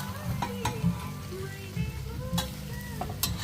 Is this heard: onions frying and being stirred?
yes